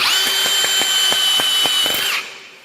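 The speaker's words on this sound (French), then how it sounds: "Et il suffit maintenant de visser après avoir chevillé." A power drill drives screws into the mounting bracket of an air conditioner's indoor unit, running as one loud, steady whine that winds down near the end.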